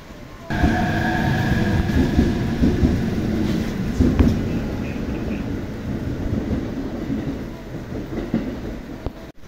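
A Narita Express limited express train rumbles in close and loud at a Chuo Line station, wheels clattering and squealing on the rails as it rolls in and slows, continuing steadily throughout.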